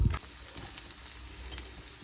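Food in a slow cooker being stirred, a brief utensil knock at the start and then a soft, steady hiss with faint scraping, close and alone.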